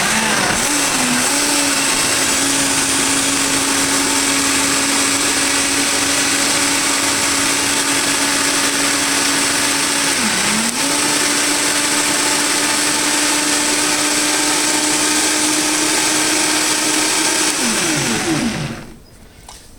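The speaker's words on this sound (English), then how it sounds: "So let's plug this in and give you some blendy noise." A blender whirs loudly and steadily while blending a sweet potato drink, its motor pitch dipping briefly midway as the contents shift, then winding down to stop near the end.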